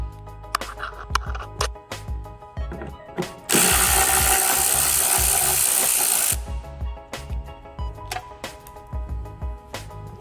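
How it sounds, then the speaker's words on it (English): A Torx T30 screw is worked loose from the trunk trim of a Toyota RAV4, giving repeated close ratcheting clicks, then a steady burst of whirring noise lasting about three seconds before the clicking resumes. "what you want to do first is remove these 3 screws right here, which is Torx T30"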